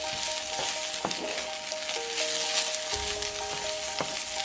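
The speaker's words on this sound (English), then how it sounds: "Next, add in the shrimp and quickly stir-fry." Shrimp stir-fry in a hot skillet, giving a loud, steady sizzle up close with a few faint clinks and scrapes from stirring, and no voices.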